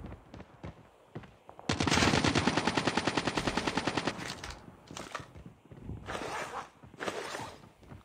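Automatic rifle fire in Call of Duty Mobile, a sustained rapid burst of evenly spaced shots lasting about two seconds, loud and near, followed by scattered shorter shots and clatter.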